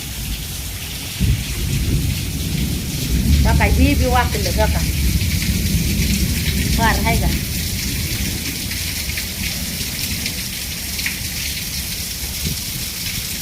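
Heavy monsoon rain pours steadily, with thunder rumbling low beneath it, while someone speaks over the downpour.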